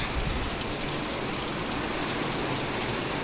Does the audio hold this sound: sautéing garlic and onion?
no